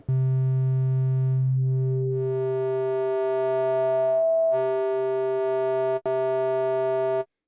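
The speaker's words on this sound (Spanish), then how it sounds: "Vamos a la forma de onda de triángulo." A Moog-style bass patch built from a triangle waveform in Ableton Live 12's Meld synth plays sustained buzzy tones that shift pitch, briefly cut out near the end, resume, then stop abruptly.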